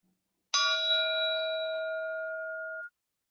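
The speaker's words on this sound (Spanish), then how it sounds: "Voy a tocar el gong y a continuación vamos a comenzar." A meditation gong struck once to open a session rings out after a moment of silence, with a bright metallic attack settling into a clear sustained hum that fades over about two seconds in a quiet room.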